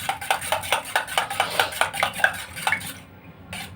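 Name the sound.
beating eggs with a spoon in a bowl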